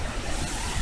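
Wind rushes steadily across the microphone at Zongo Falls, Democratic Republic of the Congo, a brief, even roar of broadband noise with no voices.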